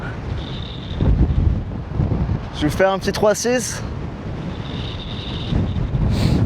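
Strong gusting wind buffets the microphone at a high mountain pass on the Tour du Mont Blanc trail in snowy conditions, a constant rumbling roar with someone speaking briefly over it.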